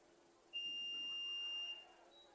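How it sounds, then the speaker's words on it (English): Expiring baseball pitch clock at a college game, a single sustained electronic beep lasting about a second, fairly faint over quiet ambient stadium noise. "So, Nick, that beeping we hear is the pitch clock as it expires."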